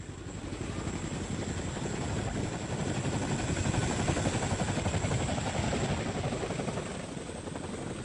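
Military helicopters in flight near a besieged garrison in 1972 wartime Vietnam, a steady loud rotor chop with turbine whine holding for the whole stretch, no voices over it.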